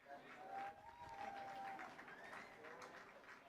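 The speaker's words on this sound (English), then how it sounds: "as he is clapped off the field" A crowd applauds at a high school boys' baseball game as the pitcher is pulled and leaves the field, a steady spread of clapping under a faint voice.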